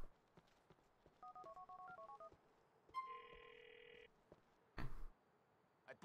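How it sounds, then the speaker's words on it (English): Phone dialing tones in the video game Grand Theft Auto IV: a quick run of soft keypad beeps, then a steady tone burst and a short burst of noise, all faint over quiet game ambience. "Dial number with your phone."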